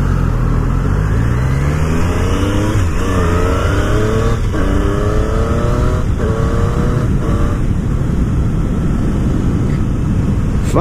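A 2019 Triumph Street Triple R sport motorcycle engine revs and accelerates steadily through rising gears on an open road, loud and close, with heavy wind rumble throughout.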